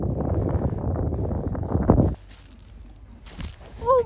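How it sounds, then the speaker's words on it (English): Gusty wind buffeting the microphone in a loud, rumbling rush that suddenly drops away, leaving quiet outdoor ambience and a brief rustle. "It's a bit windy out here."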